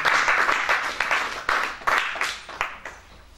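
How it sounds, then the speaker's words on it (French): A church congregation applauds during worship, a dense burst of hand claps that is loud at first and gradually thins to scattered claps and fades out, with no talk over it. "Acclamons la parole de Dieu."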